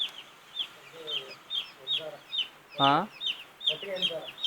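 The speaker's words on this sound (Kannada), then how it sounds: "ಸೊ ಈ ಅಂದಾಜಲ್ಲಿ ಇಲ್ಲಿ 500 ಕೋಳಿ ಇದೆ" Broiler chickens in a brooding shed holding about 500 young birds make rapid, high peeps that repeat in a steady rhythm. One louder, fuller call rises near the end over a low, constant murmur of the flock.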